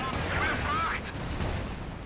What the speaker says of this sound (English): Will these flak shots get it?